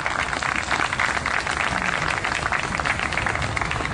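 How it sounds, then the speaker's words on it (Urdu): A hall audience at the PULISAA annual dinner at Punjab University applauds poet Amjad Islam Amjad. The clapping is dense and steady, loud and even throughout, and no voices rise above it. "تشریف لاتے ہیں آپ کی بھرپور تالیوں میں جناب امجد اسلام امجد"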